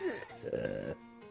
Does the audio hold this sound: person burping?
yes